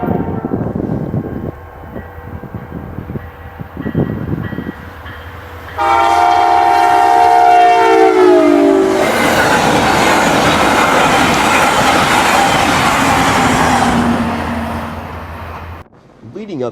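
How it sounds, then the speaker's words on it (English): Amtrak P364 passenger train speeding east through Chicagoland, its loud multi-tone horn blaring for several seconds over the roar and clatter of the passing cars, preceded by rumbling and clicking rail noise and ending abruptly. "Soon after, Amtrak P364 flies east on the Chicagoland."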